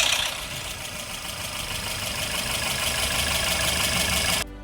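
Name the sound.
timing chain rattle, metallic humming from front of car engine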